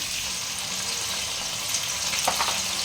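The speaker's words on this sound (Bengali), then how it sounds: "টমেটো এইগুলো একটু আমাকে ভাজতে হবে হালকা হালকা" Chopped tomatoes frying lightly in a pan, giving a constant soft sizzle, with a short stirring scrape near the end and no talking.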